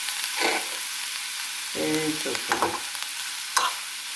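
Stirring and frying in a pan while making prawn biryani, with scraping stir strokes over a steady sizzle, a few sharper clinks near the end.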